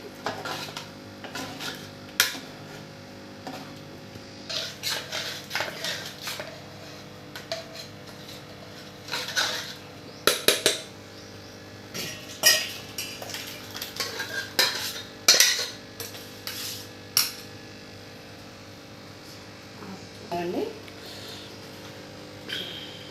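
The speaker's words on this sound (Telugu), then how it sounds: "ఇలా గరిటతోనే ఇలా మెదిపేసుకోవచ్చండి." A ladle scrapes and knocks against a metal pot while mashing cooked tomato dal, giving irregular clinks and soft stirring sounds with pauses between strokes, fairly close and moderately quiet.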